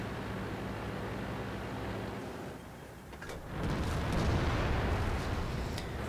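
A tank cannon shot from an M48A1 Patton in a video game: after a steady rumbling engine and ambient bed, a heavy booming blast swells around the midpoint and rolls on as a loud, sustained low roar with sharp crackles.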